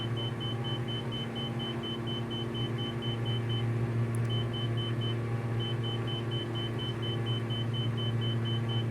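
A warning beep in a flight video game pulses steadily in short repeated bleeps with a short gap midway. It plays faintly over a constant low engine and cockpit drone, with no talk.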